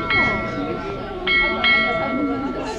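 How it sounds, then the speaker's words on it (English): An iPhone plays a ship's bell chime, with several clear metallic rings that sustain and overlap while a voice talks underneath. "My iPhone is set with a sea bell, with a ship's bell, so it rings on the half hour"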